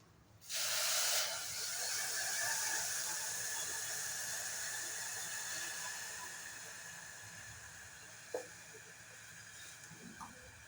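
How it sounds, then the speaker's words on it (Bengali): Water rushes into a pressure cooker pot for dal with a sudden loud splashing hiss that settles into a sustained pour, tapering gradually, with a couple of small clinks near the end; no talking. "এই বাটির মাপে এক বাটি জল দিয়ে দেব"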